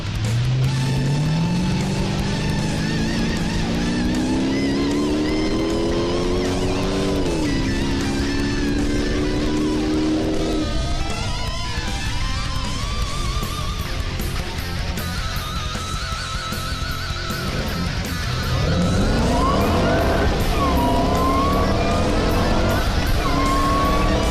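A Shelby Super Snake and a Nuformz Challenger make a 0-100-0 run, a loud V8 engine revving up through rising gear pulls, dropping with each shift, then backing off and braking before accelerating again, with a voice talking over it.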